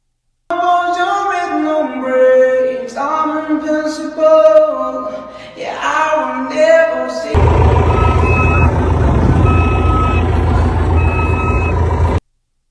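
A high piping flute tone imitates a reversing truck's beep-beep, sounding in a steady repeated pattern over loud truck engine sounds from a speaker, after some melodic playing.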